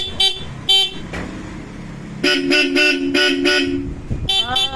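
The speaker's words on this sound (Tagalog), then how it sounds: "gumagana na yung stock horn" Several short motorcycle horn honks from a stock horn, then a longer sustained blare and another quick toot, loud and close over a running scooter engine idle.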